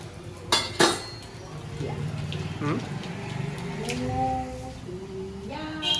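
Spices tempering in a pot in a home kitchen, with clinks of a metal utensil against the pot at the start, then a steady sizzle and scraping stirs under people talking throughout.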